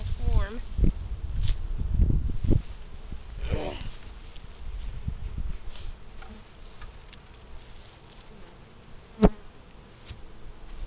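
Honey bees buzz around an opened backyard hive on a mild February day, a steady low hum close by, with someone talking at the start and a sharp knock later on.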